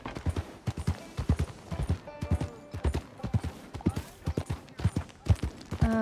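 Steady clip-clop of horse hooves at a walking pace, loud and close, with a faint brief whinny near the end, from the video game Red Dead Redemption 2.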